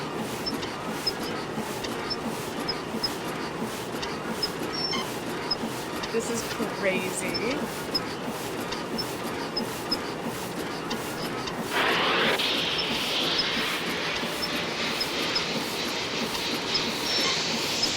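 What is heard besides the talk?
train squeaking during a cutscene in Nancy Drew: Last Train to Blue Moon Canyon video game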